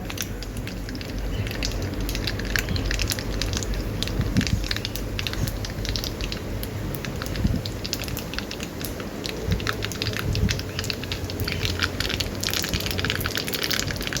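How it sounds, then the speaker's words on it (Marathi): Dense sizzling and crackling of mustard seeds popping in hot oil, steady and close throughout with scattered sharper pops. "मोहरी तडतडल्यानंतर जिरं टाकूया।"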